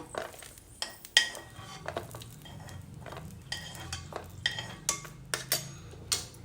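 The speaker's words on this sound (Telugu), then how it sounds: "డ్రై ఫ్రూట్స్ వేయించుకుందామండి ఇవి జీడిపప్పు ఇవి వేగిపోయినాయి తీసేద్దాము" Cashews and other dry fruits roast in a little ghee in a kadai while being stirred, giving soft scraping and clinking of a spoon against the pan over a faint sizzle, fairly quiet and close.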